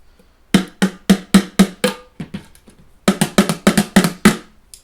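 A homemade instrument is struck like a drum in two quick bursts of sharp, evenly spaced hits, about six or seven each, close and fairly loud.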